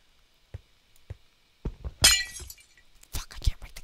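A glass block in Minecraft takes a few soft, spaced hits, then gives a bright, sharp shattering crash, followed by more clinking bursts.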